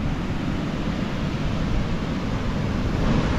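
Ocean surf rolls continuously onto the beach at Barra de Santiago, El Salvador, at sunset, a loud, steady roar with no distinct breaks and no voices.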